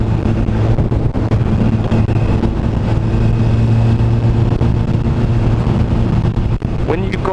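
A 2016 Honda CBR1000RR Fireblade SP pulls hard in first gear, its steady engine drone heard close and loud beneath constant heavy wind buffeting across the whole stretch.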